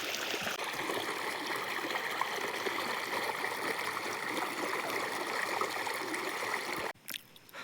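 Irrigation water runs through a wheat field, a steady close gurgle and trickle that continues evenly throughout, with no voices, and fades at the very end.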